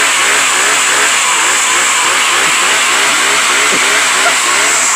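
A chainsaw runs steadily and loudly close by during homestead chores, a constant high buzzing engine drone with slight revving fluctuations throughout.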